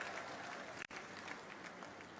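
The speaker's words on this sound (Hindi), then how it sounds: "दिल से जोरदार ताली बजाओ" A large crowd at an outdoor public inauguration claps steadily and loudly throughout, with a brief break in the middle.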